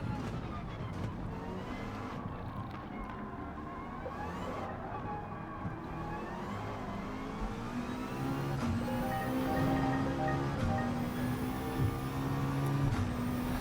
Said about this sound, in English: That's the sound of all the AI driving past me on the other side of the road.